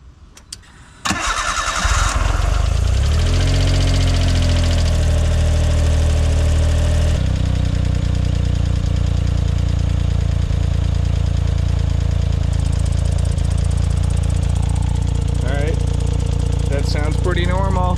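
A Suzuki Cara's small engine cranks and catches after a head gasket repair, then settles into a steady, loud idle close to the microphone with a faint rhythmic ticking over it.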